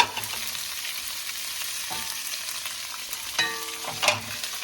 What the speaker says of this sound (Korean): 그냥 야채를 다 같이 볶으면 되겠다.